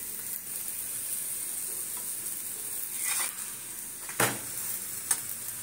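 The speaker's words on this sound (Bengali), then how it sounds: "তেল ছিটিয়ে আসছে আমার গায়ে, অল্প তেল দিচ্ছে তবুও ছিটিয়ে চলে আসছে।" An onion and coriander paratha fries in a little oil, a steady sizzling hiss with sharp spattering pops and a couple of light utensil clicks near the end.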